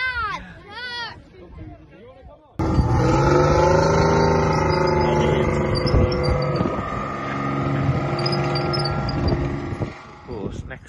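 A tank ride with a loud, steady engine roar and clattering running gear that starts abruptly and holds for most of the stretch, with wind buffeting and people talking at the start.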